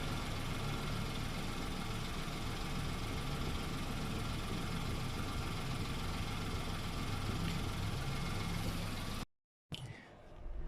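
A Hyundai Eon with a hot engine idles nearby, a steady, even mechanical hum that runs unbroken before stopping abruptly near the end, followed by a brief quieter tail.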